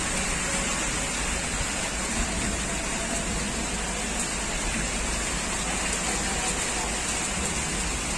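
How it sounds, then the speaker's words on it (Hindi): Heavy rain pours steadily in Karachi, Pakistan, in a continuous roar. A faint voice may be buried beneath it. "जम के बरस रही है, जम के"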